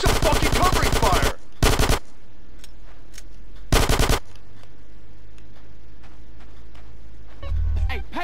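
Rapid automatic gunfire bursts from Grand Theft Auto: San Andreas, a long loud volley followed by two shorter bursts, then a quieter stretch with faint background game noise and a low rumble near the end.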